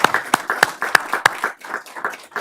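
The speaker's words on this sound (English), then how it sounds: "I would love it if we could give these 2 gentlemen a big round of applause." A small group at a school board meeting claps, sparse uneven hand claps with a few sharp, loud, close strikes standing out before trailing off.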